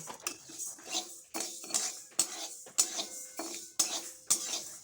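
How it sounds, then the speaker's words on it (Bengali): Lentils dry-roasting in a pan over medium flame, stirred in repeated scraping strokes with rattling grains and metal clinks, about eight rhythmic sweeps, close and alone. "প্রথমে শুকনো খোলায় ডালটাকে ভেজে নিচ্ছি বেশ কিছুটা সময় নিয়ে মিডিয়াম ফ্লেমে"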